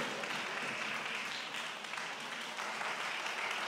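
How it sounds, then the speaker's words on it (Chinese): Audience applause in a hall at a school's New Year talent showcase after a student's piano performance, a steady even wash of many hands clapping, fairly faint and distant, with no voices over it. "再次热烈的掌声！"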